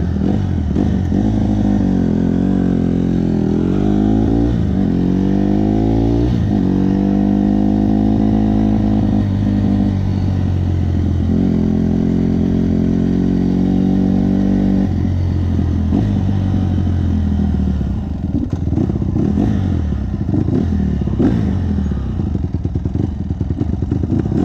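A brand new 2015 Honda CRF 150RB dirt bike is ridden, its single-cylinder engine loud and close, revving up and down in repeated rising and falling pitch sweeps with some clatter, then settling lower.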